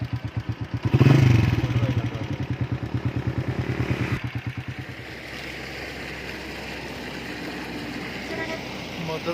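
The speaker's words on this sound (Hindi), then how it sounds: "मुद्दसर जो है मोटरसाइकिल पर बैठा हुआ है" A motorcycle engine revs in a series of rapid pulsing bursts that rise sharply and then settle into a steadier running drone, loud and close, with voices talking in the background.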